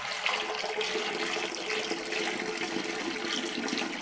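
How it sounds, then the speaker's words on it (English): Rushing water pours and swirls in a steady, loud toilet flush that keeps going without pause, close by, with no voices. "So I'm just gonna run a regular flush cycle."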